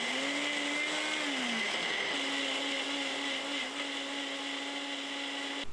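A blender whirs steadily at high speed grinding onion, garlic, radish, chili peppers and pear, its motor pitch dipping briefly as contents churn, with no voices.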